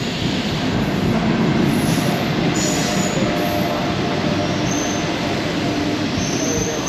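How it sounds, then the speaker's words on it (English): A local passenger train into Lisbon rolling along with a continuous rumble, faint wheel squeal and rail noise, heard from inside a carriage. "Today we're headed into Lisbon via the local train"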